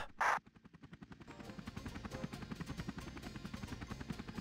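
A helicopter in a PlayStation demo video game gives a steady, rhythmic rotor chop that holds close and even after a short bright electronic tone at the start.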